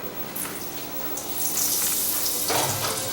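Mushrooms and a cube of butter hitting a very hot frying pan give a steady close sizzle that builds and brightens toward the end, with no talking.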